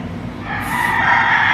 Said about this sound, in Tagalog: Hindi ko alam kung anong trip ng mga manok. Pero ang ingay nila